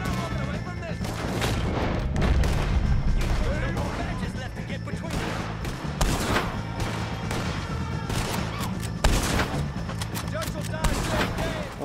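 Repeated heavy gunshots and booming blasts from Red Dead Redemption 2, a dense, loud barrage of cracks and echoing impacts over about twelve seconds with a continuous rumbling backdrop.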